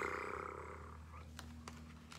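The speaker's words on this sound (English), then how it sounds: "Now one cat meowed, meow, while the other one purred." A cat purring, a steady low rumbling hum running through the whole moment with a few faint clicks near the end.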